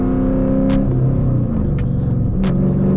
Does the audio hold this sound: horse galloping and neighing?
no